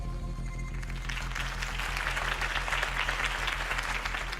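Crowd applause at a campaign rally in the Batman Telltale Series video game rises from a low hum into dense, steady clapping that fills the scene for several seconds.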